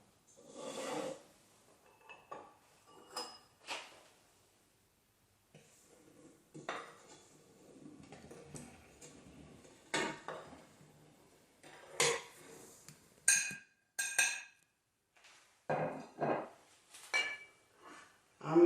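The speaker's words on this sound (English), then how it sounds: "I'm mixing the salt, the corn flour, cinnamon, and the baking powder into it." Dry corn flour, salt, cinnamon and baking powder being mixed in a bowl for gluten-free chin chin, with scattered scraping and clinking of a utensil against the bowl in short irregular bursts and pauses, close by.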